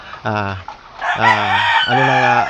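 A Milsims Gray gamefowl rooster crows loudly and close by, with three strained, harmonic cock-a-doodle-doo calls in quick succession and short clucking breaks between them.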